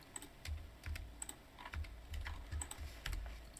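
Keys on a computer keyboard are tapped in an uneven run of quick presses and clacks while modeling in Blender, close and fairly quiet with no talk.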